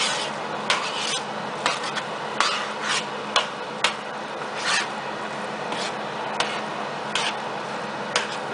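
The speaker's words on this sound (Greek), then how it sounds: "Κοιτάξτε πόσο καλά ανακατεύουμε." Homemade tomato paste being stirred in a pan, with a steady rasping, scraping texture and irregular clicks of a spoon against the pan sides, close and moderately loud, with no talking.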